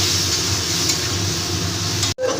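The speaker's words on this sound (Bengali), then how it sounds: "মশলাটাকে এবার খুব ভালো করে কষিয়ে নেব আলু বেগুনের সাথে" Spices being sautéed with potato and brinjal in a pan for a Bengali fish curry, a steady close sizzle with faint stirring scrapes, cut by a brief dropout near the end.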